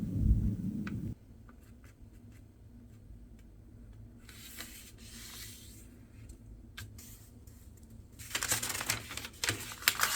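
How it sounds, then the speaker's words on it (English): Origami paper being folded diagonally and creased for a paper crane, giving soft crinkling rustles and sharper crackling bursts near the end, close and moderately loud with a low hum underneath and no talk. "Now open it back up and fold diagonally the other direction. Crease it well and unfold again."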